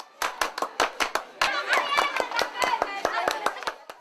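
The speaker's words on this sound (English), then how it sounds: "This complicated schoolyard clapping game is called Mabigibigi" Sharp rhythmic hand claps from children playing the schoolyard clapping game Mabigibigi, close and crisp, with children's voices and chatter between the claps.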